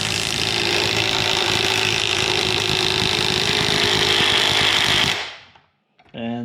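A DeWalt DCF923 20V cordless impact wrench hammers on a 1/2 inch bolt, a loud continuous rattling impact burst lasting about five seconds before stopping abruptly, followed by a brief voice.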